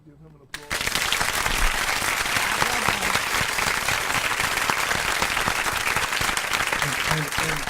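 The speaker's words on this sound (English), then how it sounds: "I just want to give him a shout, give him an applause." Studio audience applause on a radio talk show breaks out suddenly after a quiet start. It continues as steady, dense clapping and cheering at even loudness to the end.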